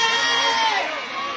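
An audience at a live show shouts and cheers together, a dense, loud burst of many high voices that fades slightly toward the end.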